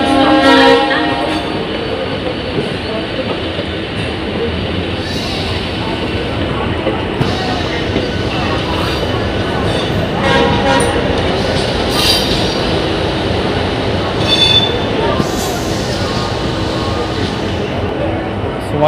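A Howrah local train rolls into its final platform stop, a continuous loud rumble of wheels and carriages with faint squeals, while a voice is heard over the noise throughout.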